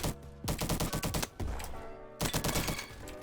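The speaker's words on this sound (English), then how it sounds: "it's a very low recoil gun, high damage gun, and a kind of a low fire rate, but not too slow" SM-03 rifle fired in a first-person shooter game: loud, punchy shots in a rapid burst, a short pause, then another burst, each shot close and booming with a sharp crack.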